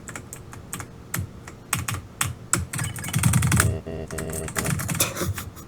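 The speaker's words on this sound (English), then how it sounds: "This keyboard is a lot more sensitive than my old one." Rapid typing on a sensitive computer keyboard during gameplay, bursts of crisp clicking keystrokes close up, with short pauses and denser clattering flurries.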